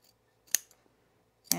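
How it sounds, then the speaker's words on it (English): Scissors trimming the fabric facing and hem of a sewn jacket: two quick, close snips about a second apart in an otherwise quiet room. "let's trim off the facing and a little bit of the hem"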